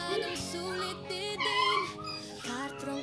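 Several dogs whimper and yip close by in a village yard, with high, wavering cries that come in bursts. People speak faintly under the cries.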